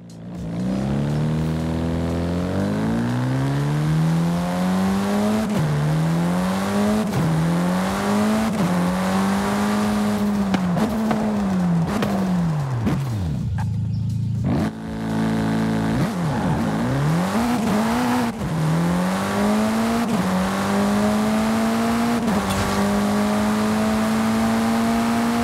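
Lightweight, tuned car in the Forza Horizon 5 racing game, its engine revving hard and climbing through repeated gear shifts, with a brief drop and lift in the middle; loud and continuous, with no talk.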